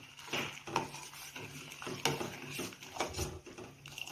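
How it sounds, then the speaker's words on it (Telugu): A spoon scrapes and clinks against a pot as sugar and cardamom powder are stirred into a sago fruit custard, an irregular series of close, light knocks and swishes. "1 కప్ షుగరు, ఇలాచీ పౌడరు వేసి మిక్స్ చేసుకుందాం."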